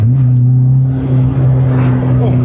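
A Peugeot 106 Sport being driven on the road holds a loud, steady engine drone with a strong low hum, recorded from inside the car, with a voice faintly audible beneath it.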